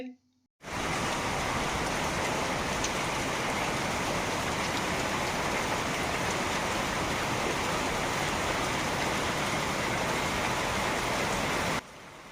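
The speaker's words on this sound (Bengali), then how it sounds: "বড় বড় মুক্ত দানার মতো ফোঁটা ঝরে পড়তে লাগলো" Steady, dense rain pours continuously onto hot, dry ground, a loud even hiss that starts abruptly and cuts off near the end.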